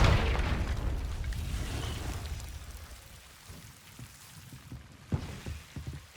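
A Confringo spell explosion in the Hogwarts Legacy video game, a boomy blast that fades into a rain-like crackling wash, followed by a few faint scattered pops and thuds.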